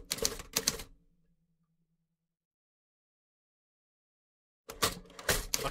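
Loud, rapid typewriter keystrokes in an itch.io horror video game, a dense burst of clacks, then a long silence before the clacking resumes.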